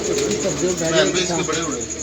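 A pigeon coos steadily in a rooftop loft over two seconds, soft repeated low calls close by, with a voice talking over them.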